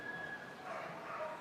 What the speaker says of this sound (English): You can probably hear them having a quick bark in the background there.